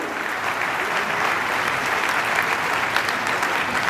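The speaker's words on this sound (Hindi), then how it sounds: "एक बार जोरदार तालियां बजाकर उनका अभिनंदन और स्वागत करें" An audience at an award ceremony breaks into loud, sustained applause, a dense wash of clapping hands filling the hall evenly from start to finish.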